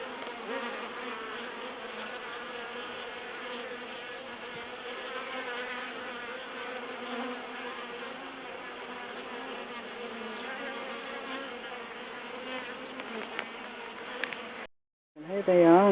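A swarm of honey bees being caught from a Top Bar hive fills the air with a dense, steady buzzing that holds at an even level, then cuts off abruptly near the end before a brief, louder burst of a different sound.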